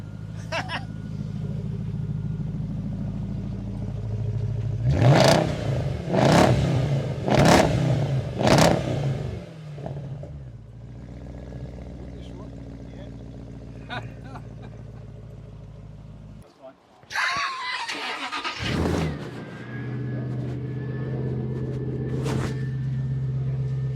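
A V8 car engine revs sharply four times in quick succession, then idles with a low rumble; people talk nearby before another burst of revving.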